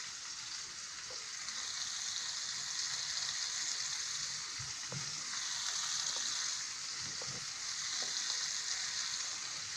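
Crunchy turkey snack frying fast on a very hot pan, a steady loud sizzle filling the whole stretch with a few soft stirring knocks underneath.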